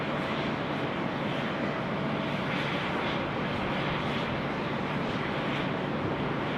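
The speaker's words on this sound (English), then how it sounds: "Runway 34 left, clear for takeoff." A jet airliner taking off from runway 34 left at Sydney Airport, a steady broadband engine roar holding at constant loudness throughout with some wind rush, no voices.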